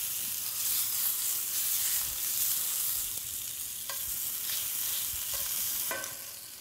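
Steaks sear in a hot pan with asparagus, producing a continuous bright sizzle and crackle, broken by a few sharp utensil clicks, with no talking.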